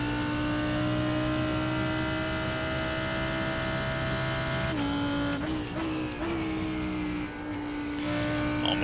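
A GT3 race car engine in the iRacing sim at Suzuka Circuit drones steadily, then blips and shifts down through gears in a quick cluster of revs, with no talking.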